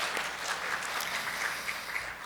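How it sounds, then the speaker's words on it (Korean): Warm audience applause at a 2018 conference session for a director after his talk: dense, even clapping from a sizable crowd filling the whole moment, loud and unbroken. "따뜻한 박수 한번 보내주시기 바랍니다"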